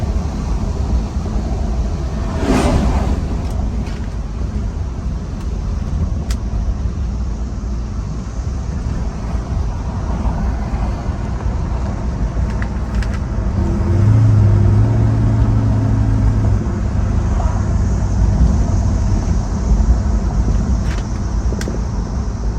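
A 1965 Chevelle Malibu Super Sport on the move, its engine giving a steady low rumble with road noise throughout and a brief swell in engine note partway through, heard from inside the car with no talk.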